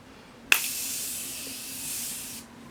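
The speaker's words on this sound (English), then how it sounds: "it's basically like an aerosol can, which I love, of course. And I'm just going to spray my face with it." A sharp click starts a continuous aerosol makeup setting spray, sprayed on a face, that hisses steadily for about two seconds, then cuts off; close and alone.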